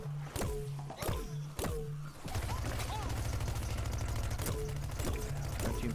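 Repeated gunshots from a pea shooter in a video game sound out as sharp, evenly spaced pops, first spaced out and then over a constant droning hum, fairly quiet overall.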